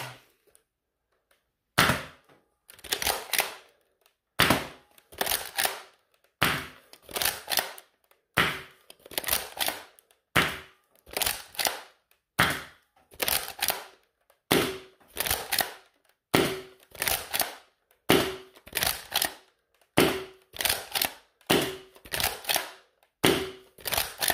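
A modified Nerf Mega Cycloneshock blaster fires short darts, sharp snapping shots roughly every second or so in a steady series of about a dozen, each followed by a quick mechanical rattle from priming the barrel, close and alone.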